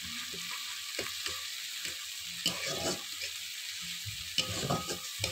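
Spices with tomato paste and ginger-garlic paste fry in oil for a katla fish curry, a soft steady sizzle broken by a few louder spoon scrapes and stirring bursts, close and fairly quiet.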